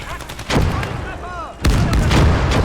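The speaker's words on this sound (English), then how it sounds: "Get the mortars firing." Mortar fire in the Legion of the Damned war game, two heavy booming blasts with rumbling tails, mixed with whistling shell sounds and battlefield noise.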